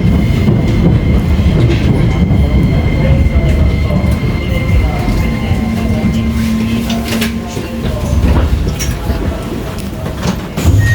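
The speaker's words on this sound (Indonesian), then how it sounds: "Ini ada kereta." A Keisei Railway train rumbles steadily close by with wheel noise and a faint high squeal, the roar continuous for the whole stretch.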